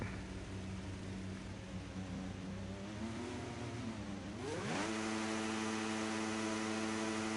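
Racing car engine in a video game revving on a practice start, a steady drone that rises in pitch, then jumps sharply to a high, sustained rev as the car launches, alone without talk.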